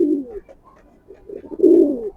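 Racing pigeons give two soft, throaty coos close by, separated by a short quiet gap.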